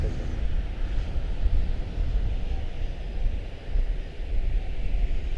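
An airliner touches down at Charlotte-Douglas airport, heard as a faint, distant, steady broadband roar that swells and dips slightly throughout.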